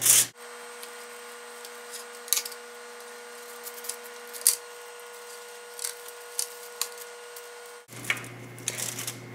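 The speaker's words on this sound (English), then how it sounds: "I'm just going to cut off the top of each of them" A knife cuts the tops off baked potatoes, giving a few soft scrapes and crunchy clicks over a steady background hum, followed by a louder burst of handling at the end.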